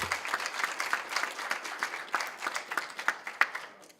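Audience at a health workforce centre launch event applauds after a speech, steady dense clapping for a few seconds with sharper individual claps standing out, then tapering slightly at the end.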